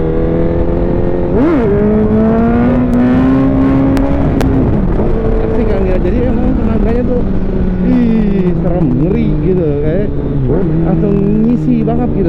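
Honda CBR1000SP 1000 cc sportbike from 2015 revs hard through a wheelie, its engine note rising and falling in loud, sustained surges with wind noise, close to the rider.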